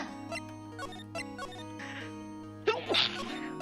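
A single sneeze bursts out near the end over steady background music and game sounds, brief and fairly loud against the mix.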